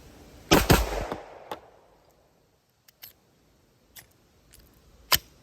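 Gen 3 Glock clone pistol fired at a range with 115 grain ammo: one sharp, close report followed by a decaying ring, then a few faint clicks and a final crisp snap.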